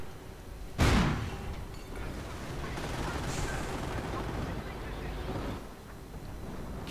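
A WWII strategy video game battle rumbles with a sharp, loud blast followed by sustained distant artillery and gunfire, a dense, continuous barrage under a speaking voice.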